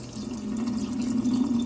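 Water sloshes and pours steadily from a cooking pot while rice is rinsed, a continuous close splashing stream with no speech.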